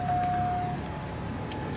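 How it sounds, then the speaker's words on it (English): A Vauxhall Zafira lights-left-on warning buzzer sounds as a steady electronic tone for under a second, then stops, leaving a low cabin hum underneath. "you get a warning buzzer."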